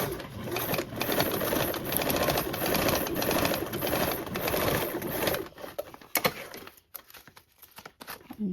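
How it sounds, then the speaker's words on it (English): A sewing machine stitching a 3/8 seam allowance on a Belmont Compact fabric piece, a close, loud continuous whirring run for about five seconds, then stopping into a few separate clicks and handling sounds, with no talk. "sew with a 3/8 seam allowance"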